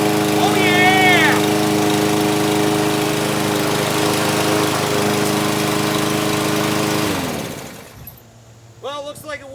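A Troy-Bilt TB110 21-inch push lawn mower engine runs loud and close with a steady drone for about seven seconds, then cuts out. A voice cheers near the start and speaks again after the engine stops.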